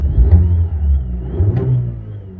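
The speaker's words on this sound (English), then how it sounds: "this car sounds pretty good with its stock exhaust" Mazda 2 DJ with its stock exhaust, heard from inside the cabin while driving: a steady, loud low engine drone that swells twice as the revs rise and then eases off.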